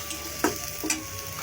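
Prawns and onions fry in a pan with a steady close sizzle, while two quick stirring scrapes cut through in just over a second.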